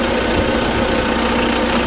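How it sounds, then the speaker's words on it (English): A tractor engine with a front end loader idles in a steady, even, low rumble, loud and close, with no talking. "I'll speed the engine up."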